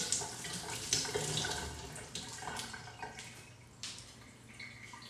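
Lettuce rinsed under a running kitchen tap, water splashing and gurgling close by with uneven bursts as the leaves are turned, fairly quiet overall.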